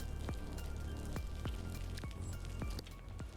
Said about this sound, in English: the rain is bad